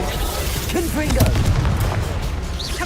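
Confringo spell explosions in the Hogwarts Legacy video game, booming blasts and bursts mixed with combat effects, loud and close, with voices shouting over them.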